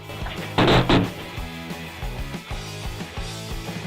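A loud crashing impact followed by several lighter thuds and knocks as a Samsung UHD TV is broken on delivery.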